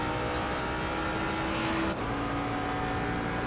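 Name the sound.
Ford Mustang GT3 engine in a racing video game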